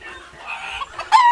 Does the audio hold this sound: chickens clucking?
yes